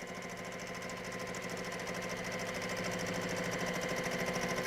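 A sewing machine stitching a quilt at a steady set speed, a fast even mechanical whirr and clatter running unbroken and close throughout, with no voices.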